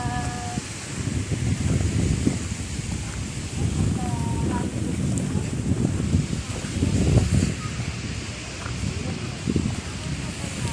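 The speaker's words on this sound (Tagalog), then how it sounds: "Lamig. Anong hangin." Steady wind rushes and buffets the microphone with a low rumble throughout at a beach resort in Catmon, Cebu, while people talk nearby.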